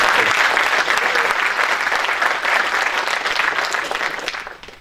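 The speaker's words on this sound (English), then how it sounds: "Give an applause." Sustained applause from a conference audience at an open-source software community event, steady and fairly loud, dense clapping that fades out near the end.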